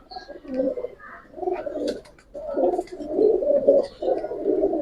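Old-line tota pigeons coo close by in repeated, rolling throaty phrases, four or five bursts separated by short pauses, growing slightly louder toward the end.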